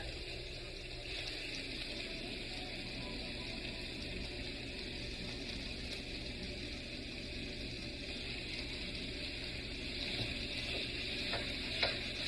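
Ground beef broken up and frying with onions in a pan gives a steady, even sizzle with light stirring scrapes throughout, close and continuous, with no voices.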